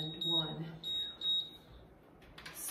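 Electronic workout timer beeps several times in a short rhythmic series, high and clear, with a voice speaking briefly under and between them.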